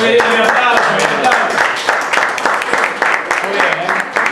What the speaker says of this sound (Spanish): un aplauso para el grupo 1